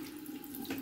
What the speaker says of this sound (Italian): apriamo l'acqua